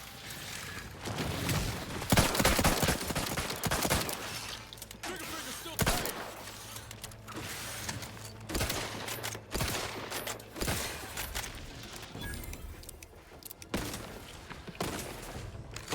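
Gunfire from a combat scene in the video game Outer Worlds 2 crackles in scattered bursts and thumps over a dense background of game noise, with a voice speaking intermittently.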